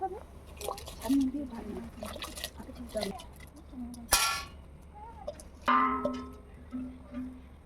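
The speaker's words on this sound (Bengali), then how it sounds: "জলটা ফুটে গিয়েছে, এবার আমি ভিজিয়ে রাখা চালগুলো দিয়ে দেব।" Soaked rice is tipped into a pot of boiling water, bringing watery splashes and drips along with two sharp metallic clangs from the pot, while someone talks intermittently over the kitchen sounds.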